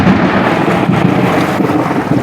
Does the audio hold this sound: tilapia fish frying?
no